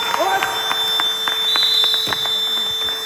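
A sustained electronic basketball buzzer tone sounds for about a second amid a noisy crowd, with voices and thumps from a gym around it.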